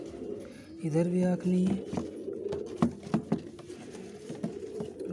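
A rare baby pigeon with missing eyes is heard in a household loft, with soft, close pigeon cooing and a patter of movement, while someone talks over much of it.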